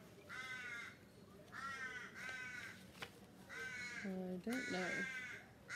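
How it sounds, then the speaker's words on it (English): Crows caw repeatedly outdoors, harsh rhythmic calls in several bursts, fairly close and loud, with someone briefly speaking between them. "Oh, shush, crows."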